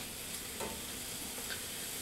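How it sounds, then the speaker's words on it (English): Finely minced cabbage fries in a pan for pork and cabbage pies, giving a faint, steady, continuous sizzle throughout, with no talking. "I'm going to let those sizzle until they start to turn translucent and weep and start to give up their flavors"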